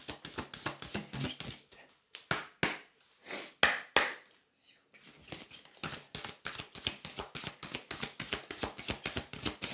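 Oracle cards shuffled by hand, a quick run of crisp, riffling taps and slaps, close and fairly quiet, with short pauses between bursts and no talking.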